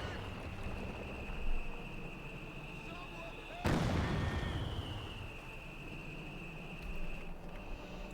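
In Company of Heroes 2, a sharp explosion from artillery fire bursts out near the middle over a steady background hum and tone, with softer distant thumps on either side and a commentator talking.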